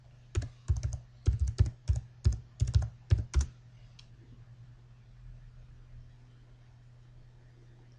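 Quick bursts of typing on a computer keyboard while logging into a WordPress backend, clustered keystrokes over the first few seconds, then quiet room hum with no talk.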